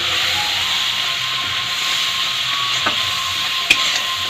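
Chicken cooked in masala spice paste in a pan hisses and steams steadily after a splash of water, with faint scraping and a couple of soft clicks from stirring, close and without talk.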